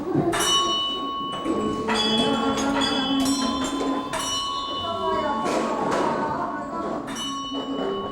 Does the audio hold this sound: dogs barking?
no